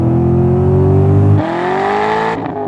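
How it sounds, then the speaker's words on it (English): A 2006 Corvette C6 Z06 V8 engine heard from inside the car, a loud droning roar that drops sharply on a quick downshift and then revs up again before the throttle lifts. "Quick downshift."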